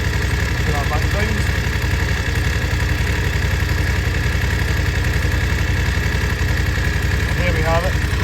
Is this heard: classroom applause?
no